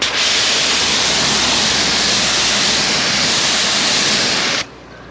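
Water spraying from an IK Multi Pro 2 pressure sprayer onto a car, a loud close continuous hiss held for several seconds before cutting off abruptly.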